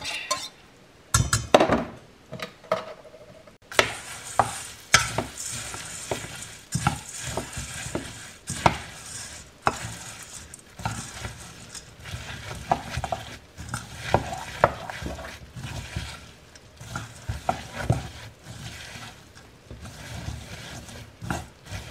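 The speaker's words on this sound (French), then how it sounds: "on mélange bien et je fais fondre le chocolat" Melted chocolate is stirred into puffed rice with a spoon, producing irregular scraping, rustling and clinking against the bowl in repeated close bursts across the whole stretch.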